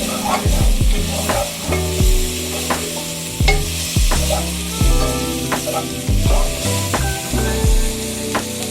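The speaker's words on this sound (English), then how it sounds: "Start with our onions. This part won't take too long. I'm not looking to get much browning on the onions," Onions sizzle and soften in a pan with repeated loud scraping stirs in an uneven rhythm over a steady close sizzle, with no talk.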